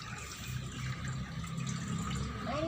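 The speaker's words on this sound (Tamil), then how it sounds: "தண்ணி வாட்டராக வரும்." Tap water running steadily into a sink, a continuous broadband splashing rush at close range with no voices, heard alone for a few seconds.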